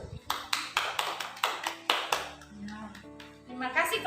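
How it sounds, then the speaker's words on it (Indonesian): Students applauding a group in a classroom: about eight sharp, evenly spaced claps up front, then scattered softer claps over a low steady hum, fairly close and moderately loud. "beri tepuk tangan dulu untuk kelompok 1"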